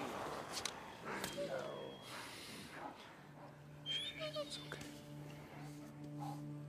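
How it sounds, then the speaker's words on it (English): A dog whimpers and yips in the video game Days Gone, with high thin whines over a low hum while people talk. "he's just a dog"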